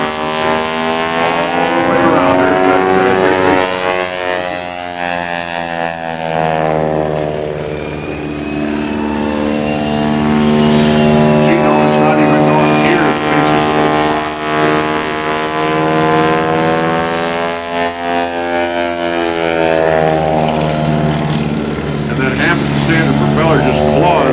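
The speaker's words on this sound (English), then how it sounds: "Be able to drag the plane up like that" A propeller aerobatic airplane engine drones steadily at an airshow, its pitch rising and falling as it climbs and dives through low-altitude maneuvers, loud and continuous throughout.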